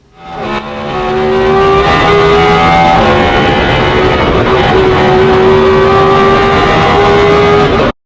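Lamborghini Huracan engine in a sim racing game, revving loud and close for about seven seconds with rising and falling pitch through gear changes, then cutting off abruptly.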